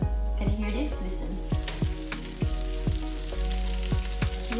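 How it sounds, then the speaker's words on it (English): Hot oil sizzling in a pan while frying festival dumplings, a steady close crackle with soft repeated clinks of stirring, and a faint voice now and then. "We have our oil heating up and can you hear this?"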